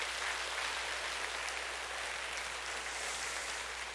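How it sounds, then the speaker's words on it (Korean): A church congregation claps for children at a family-month worship service, a steady, dense, somewhat distant wash of applause lasting throughout, with no one speaking. "격려의 박수 한번 또 할까요?"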